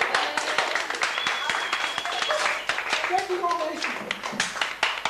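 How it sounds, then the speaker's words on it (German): An audience claps at a 1988 prize ceremony, with many quick overlapping hand claps in a lively patter, while a person speaks over the applause. "Applaus, Applaus, klatschen."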